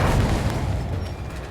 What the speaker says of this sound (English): I heard 2 sets of Firecrackers.